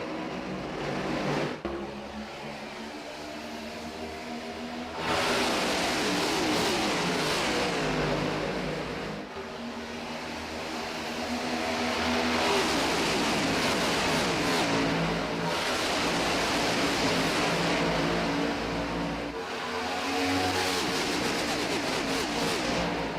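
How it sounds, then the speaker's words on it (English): Race cars accelerating around Daytona International Speedway at the start of a heat, a dense continuous roar of several engines that swells and fades as packs pass, loud and without talk. "cars getting up to pace for the first time tonight"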